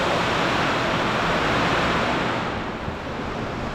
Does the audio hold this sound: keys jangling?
no